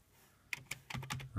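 Several sharp keystrokes on a computer keyboard while entering a command on a Raspberry Pi, a few separate clicks followed by a quicker cluster, close and alone.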